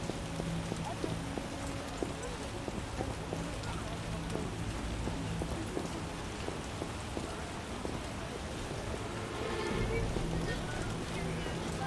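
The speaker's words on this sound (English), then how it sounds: "I detest this weather." Steady rain patters throughout a scene in The Witcher video game, with horse hooves clopping and voices talking over the wet downpour.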